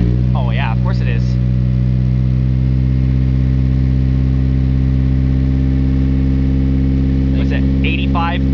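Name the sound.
Nissan SR20DET engine running after first start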